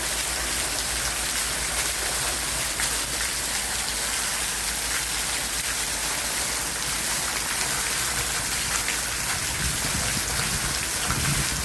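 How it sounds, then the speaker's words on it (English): Dense, steady downpour of heavy rain in Kingston, Jamaica, hissing loudly and continuously, with a low rumble underneath; no voices. "What a piece of rain!"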